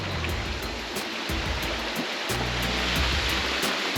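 River water rushes steadily over rocks in Trinidad, a loud continuous broadband roar heard close by with no voices.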